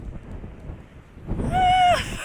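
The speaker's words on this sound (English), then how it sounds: "So as you can tell, it's pretty windy" Wind buffeting a microphone on a windy Norwegian mountain summit, a low rumbling rush that swells louder in the second half, with a brief whistling tone riding over the gusts.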